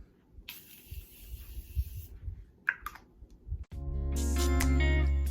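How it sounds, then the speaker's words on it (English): A short hiss of a spray bottle mist near the start, a few small clicks and rustles, then a loud steady whirring hum fills the end. "Spray."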